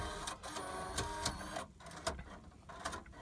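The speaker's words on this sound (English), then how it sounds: "And that's the sound of my CD player doing God knows what." A 2004 Ram 1500's in-dash CD player mechanism, relearning after a battery disconnect, runs a continuous mechanical whirring and clicking drive up close, with irregular ticks and bursts of motor noise, fairly quiet.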